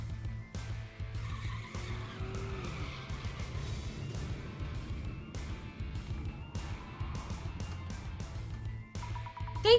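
A video-game car revs and pulls away with tires skidding and squealing, engine noise steady and fairly close throughout, ending in a louder burst.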